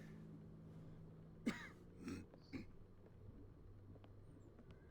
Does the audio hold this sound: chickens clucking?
no